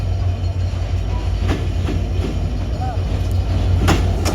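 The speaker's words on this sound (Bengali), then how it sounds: "এই যে ট্রেন চলে এসেছে।" A passenger train pulls in at a station platform with a heavy, continuous low rumble and scattered wheel clicks and clatter, close and loud, with faint voices around it.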